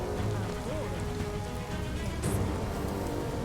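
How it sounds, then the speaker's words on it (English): Steady rain patters through a scene in the video game Biomutant, a dense continuous hiss with a low game-music drone underneath and a brief brighter splash near the end. "And it's raining?"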